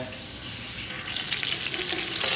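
Chopped onions frying in ghee for chicken pulao, a dense continuous sizzle that swells slightly louder toward the end, close and alone with no voices.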